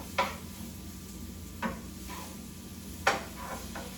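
Poblano and Anaheim peppers, sliced thin, sauté in a pan with a soft steady sizzle, broken by a few sharp clicks of a utensil stirring against the pan.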